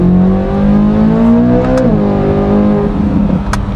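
A 2026 Corvette Z06 3LZ engine roars loudly under hard acceleration in second gear, its pitch climbing steadily before a brief dip at the shift-like break and then rising again, close and continuous.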